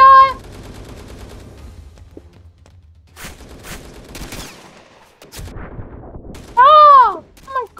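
Video game gunfire from a sniper match: scattered sharp shots and bursts of fire across the clip, with a loud tonal game effect near the end and some background activity.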